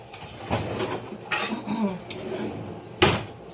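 A knife fetched from among kitchen utensils while making keto chocolate, several loud metallic clatters and clinks of cutlery and pans spaced irregularly, close by, with no talking.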